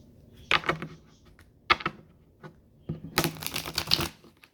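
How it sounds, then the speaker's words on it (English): Tarot cards being shuffled: a few sharp riffle-like bursts, then a longer dense flurry of crisp paper rustling, close and moderately loud. "One more shuffle for Taurus"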